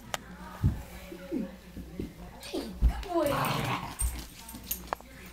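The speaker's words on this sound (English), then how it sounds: "That's our Siberian Husky, Nikki, the little puppy." A Siberian Husky puppy and a Wire Fox Terrier play nearby, giving short yips, whimpers and growls in scattered bursts while a person talks over the noise.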